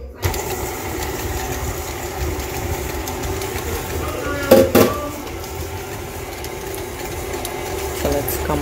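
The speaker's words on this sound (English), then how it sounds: "Then I'm gonna blend it" Electric mixer blending banana bread batter, a steady mechanical whir running throughout at moderate level, with a brief louder clatter midway.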